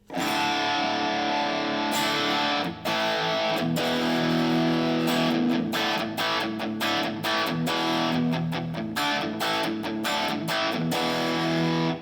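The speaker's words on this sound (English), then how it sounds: "But here is his favorite designed distortion." An electric guitar played through a custom-designed distortion preset rings out with thick, sustained overdriven chords, then breaks into choppy strummed hits, loud and close.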